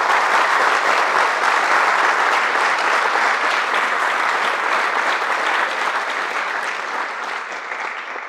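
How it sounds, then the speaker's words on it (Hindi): An audience at a career counselling seminar applauds the speaker: a dense, sustained wash of clapping for about eight seconds that gradually fades toward the end. "तो पहले तो एक बार तालियां होनी चाहिए सर के लिए"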